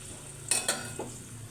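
Eggplant goes into a hot pan for a fish curry, with a couple of sharp scraping stirs of a utensil over a soft, steady background sizzle.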